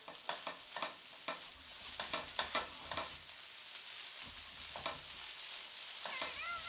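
Chicken fried rice seasoned with pepper and soy sauce is stirred in a pan, a steady sizzle under repeated close spatula scrapes and clacks in an uneven rhythm.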